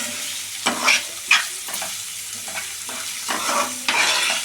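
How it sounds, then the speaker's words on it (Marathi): Onions sauté in a pan for Marathi-style methi bhaji, giving a steady, gentle sizzle broken by several scraping stirs of a spoon, close up and with no talking. "कांद्याला गुलाबी रंग येतो तोपर्यंत आपण परतून घ्यायचा।"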